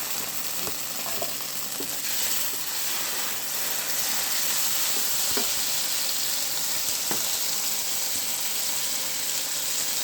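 Onion fries with ginger, garlic and chili paste in a pan, giving a steady soft sizzle with a few small pops and stirring clicks, alone and fairly quiet.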